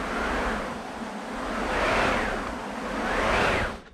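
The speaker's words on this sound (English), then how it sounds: "A wind machine." A steady rushing whoosh of wind that swells and fades in slow waves, loud and continuous with no voices.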